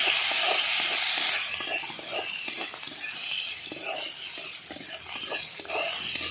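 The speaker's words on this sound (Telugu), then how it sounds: "ఆవాలు, జీలకర్ర, కట్ చేసిన ఉల్లిపాయల ముక్కలు తాలింపుకి" Mustard seeds, cumin and chopped onion pieces tempering in hot oil, a steady sizzle and hiss under repeated scraping stirs, louder at first and then settling to a moderate, continuous crackle.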